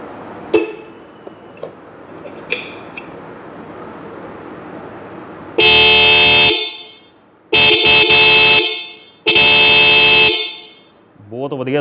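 An aftermarket bike horn blasts three times in a sound check, each loud sustained honk lasting about a second with short gaps, preceded by quiet background clicks and followed by someone speaking.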